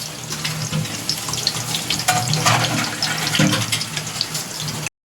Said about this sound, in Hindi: प्याज डाल दी मैंने, कुछ फ्राई करते हैं।